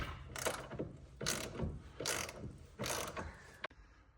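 A ratchet snugs up a suspension nut and bolt while a drift angle kit goes onto a 2004–2007 Cadillac CTS-V. Four clicking bursts come in a steady rhythm, close and fairly quiet, then a sharp click ends them. No voices are heard.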